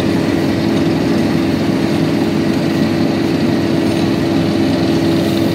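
A Heimerdinger LB266 impact wrench spinning a drill bit whirs continuously at a steady, high-pitched drone, close up and loud, with no pauses.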